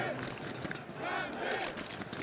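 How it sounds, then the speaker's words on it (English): A packed esports arena crowd roars and chants for Gambit during a CS:GO match against FURIA at the Stockholm 2021 Major, a dense, steady wall of voices swelling slightly midway. "Crowd rising for the players on the server. I want to hear some dueling chants"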